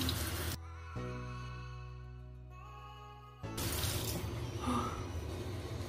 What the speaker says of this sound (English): And then I just rinse off my face with some lukewarm water.